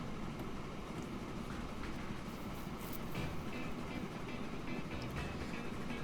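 An iron and slag freight train in the game Transport Fever rumbles along in a steady, low continuous drone with faint rail clatter.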